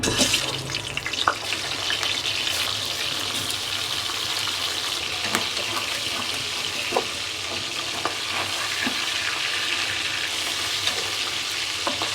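Hilsa fish head fries in oil in a wok with a steady, moderate sizzle, while intermittent clicks and scrapes of stirring sound throughout.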